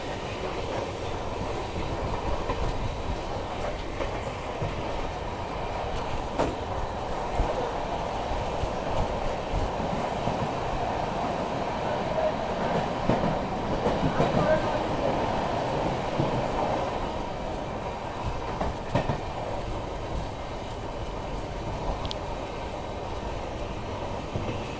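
The Sabarmati Express heading toward Gorakhpur rolls past near Ahmedabad at night, a steady, loud rumble of wheels with rhythmic clickety-clack that keeps going for the whole stretch, with no talk over it.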